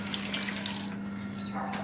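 Water is poured into a large vessel to soak potatoes for homemade potato crisps, a brief steady rushing stream with a low hum beneath it.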